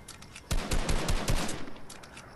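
Fortnite gunfire in a rapid automatic burst, a run of loud cracking shots about a second long, followed by fainter scattered shots further off.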